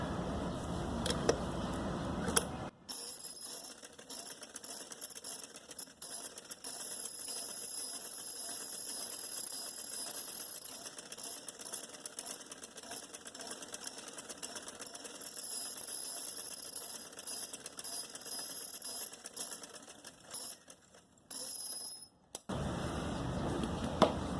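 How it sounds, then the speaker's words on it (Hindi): A sewing machine runs in one long steady mechanical whir as it stitches a curved design on fabric for trousers, with sharp clicks as the run starts and stops near the end. "हम अपनी सिलाई को इस तरीके से मशीन को चलाते जाएंगे"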